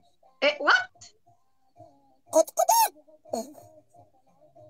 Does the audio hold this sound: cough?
no